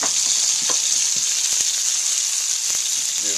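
French toast sizzles steadily in a pan on a woodstove, a continuous bright hiss with faint clicks and light scrapes from stirring or flipping.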